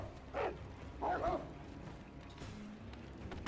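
Dogs barking in a video game, two short bursts of barks at mid distance over steady background noise, then fading to quieter ambience.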